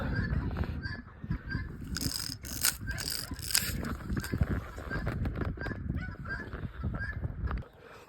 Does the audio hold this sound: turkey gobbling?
yes